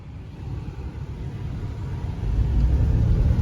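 A 3rd gen Toyota 4Runner, converted to 4WD, pulls onto an asphalt road and gets up to speed, its steady low engine rumble growing louder and fuller in the last second as it accelerates.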